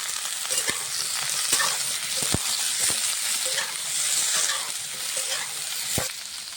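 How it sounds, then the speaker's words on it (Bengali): Potato, green banana and eggplant frying and being stirred in a pan, a continuous loud sizzle broken by repeated sharp scrapes and knocks of the spatula, with no talking. "আলুটা হালকা করে নেড়ে চেড়ে ভেজে নিয়ে দিয়ে দেবো কাঁচা কলা, বেগুন দিয়ে দেবো।"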